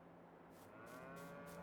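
Cattle lowing in the farming game Farming Simulator 22, a sustained tonal moo with rising harmonics, moderately close and fairly faint against a steady background hum, with no talking.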